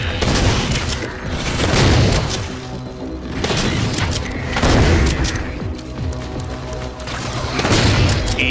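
Shotgun blasts in Halo 4 Spartan Ops gameplay, with heavy booming shots repeating about every three seconds through dense game noise.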